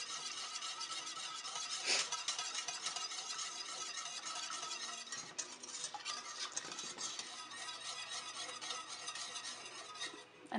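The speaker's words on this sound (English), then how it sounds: "just stirring it constantly." A pasta sauce seasoned with fresh nutmeg is stirred constantly in a pan, giving a steady, close scraping and swishing with a few sharper utensil clinks and no talking.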